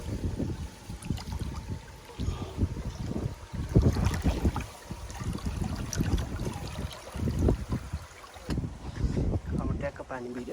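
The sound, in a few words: water filling and running in a vegetable farm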